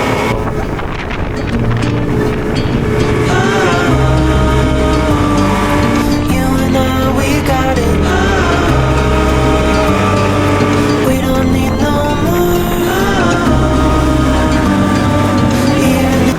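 Motorboat engine droning steadily on the sea with wind buffeting the microphone, loud and continuous with a low throbbing hum, on a ride from Mersing to Pulau Tengah island.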